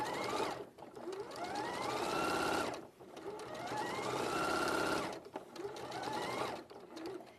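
A sewing machine stitching fabric runs in three steady bursts of whirring, rising in pitch as it speeds up, each separated by a brief pause, close and fairly quiet.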